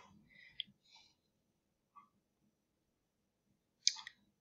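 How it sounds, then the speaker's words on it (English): A few small, quiet computer mouse clicks spaced out against near silence as a download PDF link is clicked, with faint breathing or murmur at the start. "I'll just click on the download PDF link"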